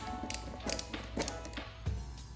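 Screws being backed out of a motorcycle headlight: soft ratcheting clicks and small metallic taps come close by against a faint steady hum.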